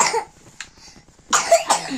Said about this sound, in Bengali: দেখ কাশি হচ্ছে, কটা লোম খেয়েছিস কে জানে।